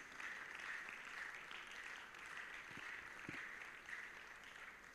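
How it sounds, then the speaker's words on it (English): A church congregation at a Sunday service claps continuously as people leave, the applause soft and a little distant, spread evenly across the room at a constant level, with only brief faint sounds cutting through. "Let's keep clapping until they leave"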